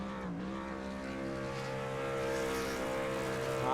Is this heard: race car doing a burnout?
yes